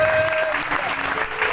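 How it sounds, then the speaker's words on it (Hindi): A congregation claps together at a Christian worship gathering on a street in Karachi, producing steady, dense applause that fills the short moment without a break. "जलाल के लिए ताली बजाएंगे"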